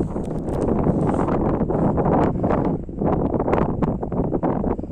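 Strong, icy, gusty wind on a mountain ridge above Yalta roars steadily into the microphone, a dense rushing buffet that swells and dips without pause, with no voices heard.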